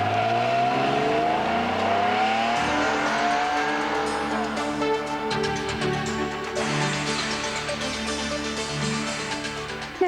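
A Porsche with a flat-six engine mounted in the back drives past, its engine note rising and falling through gear changes, steady and fairly close, with no talking.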